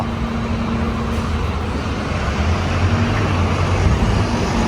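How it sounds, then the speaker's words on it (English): A noisy bus on a street in Norwich gives a steady, loud engine rumble and road roar that swells slightly toward the end as it passes. "And a very noisy bus."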